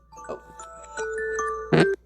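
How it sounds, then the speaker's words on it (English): A short electronic alarm tune plays a few rising and falling tones, ending in a louder chime, clear and close. "That was my alarm, my actual alarm that was supposed to go off."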